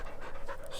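A small dog in San Cristóbal de las Casas, Chiapas, panting in quick, even breaths close by, with no one talking.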